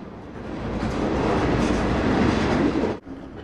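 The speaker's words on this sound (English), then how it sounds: "the clickety-clack of the wheels on the rails" A train rolls past up close, its wheels beating a steady clickety-clack on the rails under a loud, continuous rumble that cuts off abruptly near the end.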